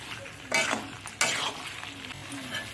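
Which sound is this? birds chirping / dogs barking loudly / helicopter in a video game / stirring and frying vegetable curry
stirring and frying vegetable curry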